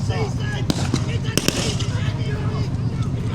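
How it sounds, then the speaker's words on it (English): Grenade blasts in a WWII battle reenactment as Allied infantry with fixed bayonets charge German infantry, several sharp bangs among the steady rumble of a crowd, the loudest near the middle, with a commentator's voice running under the noise. "Looks like the Allied infantry have launched grenades on these German infantry now, making a charge for it."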